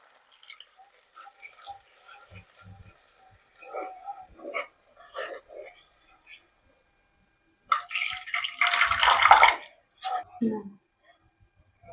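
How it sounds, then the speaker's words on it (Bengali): Water is poured into a simmering dhoniya fish curry in a pan. The pour is a short, busy splashing burst near the end, after scattered quiet kitchen clatter, with no talking. "পরিমাণ মতো জল দিয়ে দিচ্ছি যাতে একটু পাতলা হয়ে যায়"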